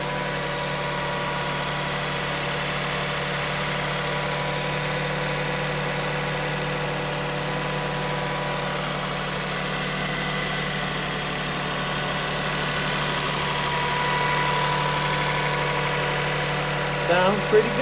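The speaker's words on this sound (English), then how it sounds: "So we'll go out there and let you hear the engine." A 2001 Lexus RX SUV engine idles evenly in the background, a smooth continuous hum with a faint clatter near the end.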